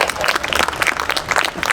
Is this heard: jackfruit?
no